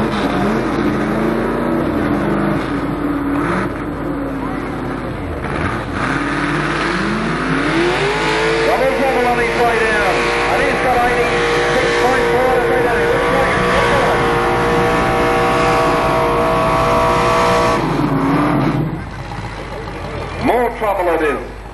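Tractor pull engine, a Chev 307, roaring loudly and continuously with rising and falling revs as the machine pulls, under an announcer's talk over a public address system.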